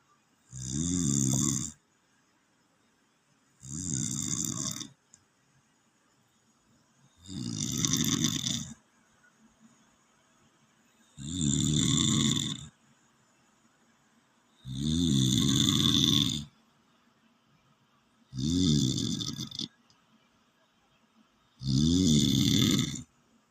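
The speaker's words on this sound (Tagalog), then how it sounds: "tunog yung hilik niya" A man snores loudly nearby, seven deep rasping snores, each lasting a second or two, spaced at a slow regular rhythm with quiet pauses between.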